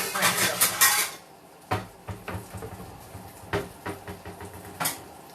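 Metal kitchen strainer being handled amid clattering dishes and cutlery, a burst of rattling followed by several sharp, close knocks and clinks spaced a second or so apart, with no talk.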